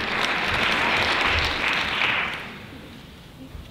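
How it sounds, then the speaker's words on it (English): Audience applause at a teen pageant, a dense wash of many hands clapping that holds steady for about two seconds and then fades out. "So let's give them all a big round of applause."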